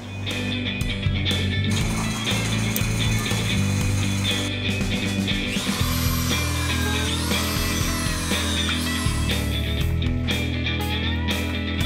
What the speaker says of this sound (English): Once the Pro Press goes on there, clamps down on here and then compresses this so the gaskets make the seal